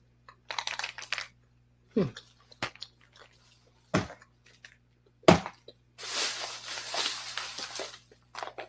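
Trident Sour Patch gum chewed close up in a soft, intimate setting, with a few sharp isolated snaps and clicks between moist chewing bursts, then a longer stretch of crackly, rustling chewing near the end.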